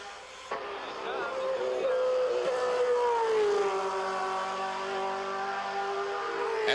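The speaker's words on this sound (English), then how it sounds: "Catching Lucelle on the front straight gave Kroll a clear track through the high-speed turns 1, 2, and 3." A Can-Am race car howls past at speed on the circuit at Mosport Park in 1985, engine note loud and sustained, pitch sliding downward as it passes, with a commentator talking over the roar.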